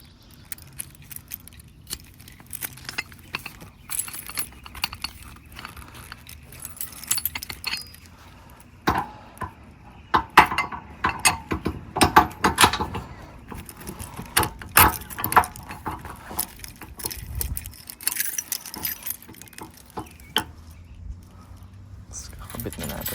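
Keys jangle and clink in short bursts while being handled and fitted inside a camper, close and uneven, with people talking intermittently throughout.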